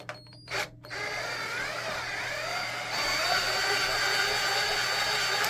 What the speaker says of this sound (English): The hole is pretty deep here, so we're gonna use a longer screwdriver.